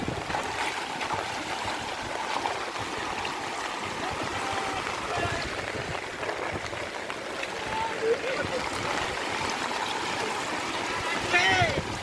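Floodwater pours across a road where a blocked culvert forces it over the surface, a steady broad rushing wash heard nearby and continuous, with voices talking over it.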